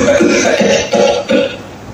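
Several harsh, raspy coughs in quick succession, close and loud, trailing off at the end.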